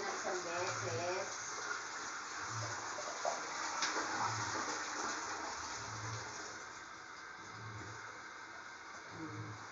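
Rushing, gurgling water close by, like a toilet flush draining, with a soft rhythmic thumping underneath throughout.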